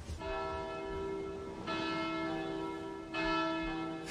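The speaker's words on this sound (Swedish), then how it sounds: "Precis som på kontinenten ringer kyrkklockorna över Sverige den 2 augusti 1914." Church bells ring out with resonant, overlapping tolls, each new strike swelling over the lingering hum of the previous ones.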